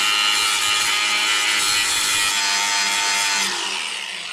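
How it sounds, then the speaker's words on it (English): An angle grinder cleans trailer metal down to a bare surface with a continuous, harsh, close grinding rasp that tapers off slightly at the end. "So take the angle grinder to it and clean this up a little bit."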